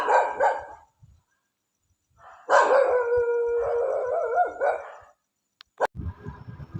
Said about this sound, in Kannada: ನೋಡ್ರಿ, ಅಲ್ಲೊಂದು ನಾಯಿ ಬಗಿಳ್ತಾ ಇದೆ.